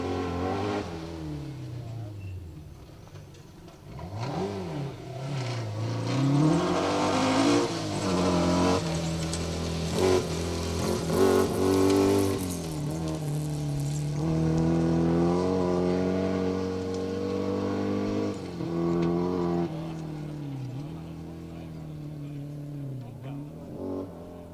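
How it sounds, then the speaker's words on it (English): Mercedes rally car racing on a forest rally stage, engine revving up and down through gear changes as it approaches and passes, loud and sustained over roughly twenty seconds. "Let's just have a little glimpse of this fantastic monster of a Mercedes."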